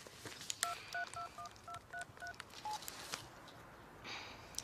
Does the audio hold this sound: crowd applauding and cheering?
no